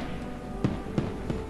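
Fireworks bursting in the distance over water in the kayaking VR game Kayak VR: Mirage, with three soft, muffled booms spaced about a third of a second apart over a steady ambient bed.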